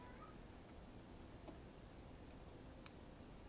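A domestic cat gives a faint meow indoors against a steady background hiss, brief and distant, with a couple of small ticks around it and no speech.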